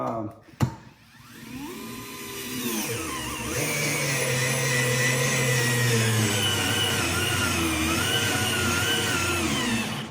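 Cordless RIDGID R8224K power tool starting up after a sharp click, then running as a steady, loud motor whine that stays even for several seconds, close by.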